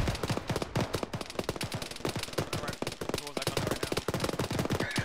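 Dense, sustained automatic gunfire in the Arma military video game, with rapid overlapping bursts and single shots from several weapons rattling continuously throughout, loud and close, and a faint voice underneath.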